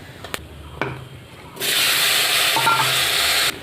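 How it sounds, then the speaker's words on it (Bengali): Cut potatoes drop into hot oil with a couple of soft knocks, then a loud, dense frying hiss bursts up and holds steady close by until it cuts off near the end. "ওই তেলে যে আলুগুলো কেটে রেখেছি এটা আমি ভেজে নেবো"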